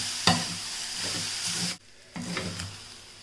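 Cooked rice is being stirred into an amla mixture in a pan, with soft scraping strokes and a gentle sizzle, broken by a brief pause before the stirring resumes.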